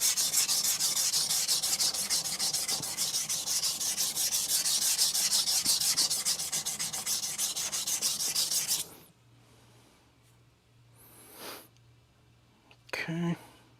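An Aogami 2 steel Bunka knife is thinned on a coarse Shapton Glass 220 stone, a steady rapid back-and-forth grinding scrape lasting several seconds, then stopping, followed by quiet handling sounds and a soft voice.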